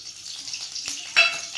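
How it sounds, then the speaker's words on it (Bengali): Oil heats and sizzles in a hot wok, a steady soft frying hiss with a brighter crackling burst near the end, close and fairly quiet, no voices. "কড়াটাও ওইদিকে গরম হয়ে গেছে তেল দিয়ে দেবো"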